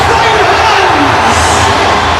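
A sellout crowd of 61,000 at a 2002 rugby match roars continuously as the two teams emerge, a dense, loud wash of cheering and shouting with no break.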